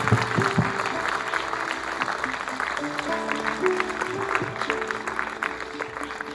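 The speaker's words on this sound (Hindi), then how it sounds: "चलिए तालियां।" Applause at a school cluster-level TLM fair as the block education officer is welcomed, with scattered clapping from a gathered crowd of teachers under a murmur of voices and background chatter, fairly distant and moderate in level.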